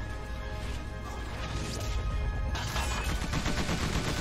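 Gunfire in Tiny Metal: Full Metal Rumble aimed at the unit Tsukumu, loud crashing shots and a dense burst of rapid fire growing stronger midway, with no talking.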